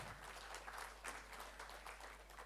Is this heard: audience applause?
yes